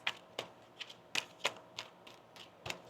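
Tarot cards are shuffled by hand in a string of short, crisp riffling taps with uneven spacing, quiet and close.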